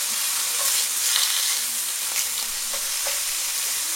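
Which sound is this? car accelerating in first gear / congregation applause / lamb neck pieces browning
lamb neck pieces browning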